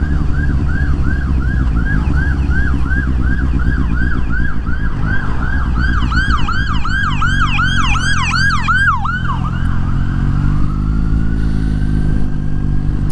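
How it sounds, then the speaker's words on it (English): An ambulance siren wails loud and close over a motorcycle's steady engine drone, riding a Suzuki GSX-S750 on the road. The siren's rising, falling sweeps repeat for several seconds, then fade away as it passes. "oh, there is an ambulance coming."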